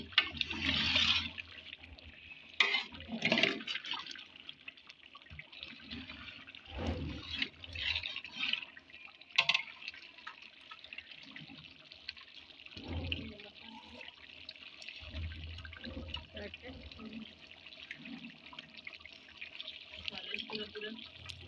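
Water from three containers is poured into a cooking pot of browned chicken on an outdoor village stove, splashing and gushing steadily with quieter trickling stretches.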